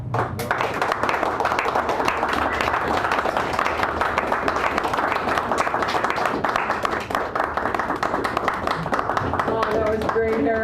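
An audience gives a full, steady round of applause after a poetry reading at a San Francisco cafe. The clapping is dense and close and runs throughout, and a voice begins speaking just at the end.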